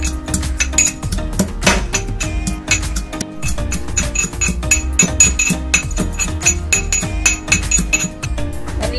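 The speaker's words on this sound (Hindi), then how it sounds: "अब ये मिर्च हम कूट लेंगे, इसमें थोड़ी सी धनिया पत्ती भी डालेंगे" Green chillies with coriander and salt are pounded for thecha, a steady series of hard metallic knocks and clinks with ringing overtones, close and loud, repeating in an uneven rhythm.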